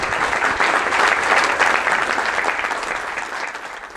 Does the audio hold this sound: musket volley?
no